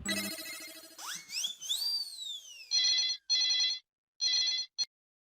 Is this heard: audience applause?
no